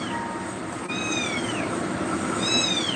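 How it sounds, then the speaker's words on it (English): Cats meow in the video game Zelda: Tears of the Kingdom, two rising-and-falling calls a second or so apart, heard over a steady background hum with no talking. "Kitties!"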